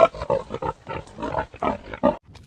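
A pig grunting during an attack, a series of short rough close grunts in uneven bursts with brief gaps between them.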